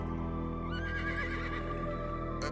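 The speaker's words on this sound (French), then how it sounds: "Un cheval, ok." A horse neighing within a 90s-style rap track, a clear whinny rising over a steady bass-heavy beat and sustained synth tones, followed by a brief bright accent.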